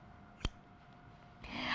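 A single sharp snip of forged sewing scissors, close and crisp, followed by a faint rising rustle.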